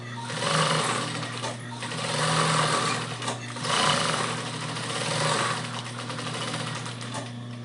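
A domestic sewing machine runs a side seam on a fabric necessaire, its steady motor hum and rapid needle chatter holding for several seconds with slight swells in speed.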